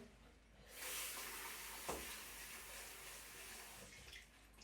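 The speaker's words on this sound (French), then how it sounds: "Il faut que je rince d'abord l'entonnoir." Water runs steadily from a tap to rinse a funnel before film developing, a continuous broad splashing hiss lasting several seconds, close and moderately loud with no talking.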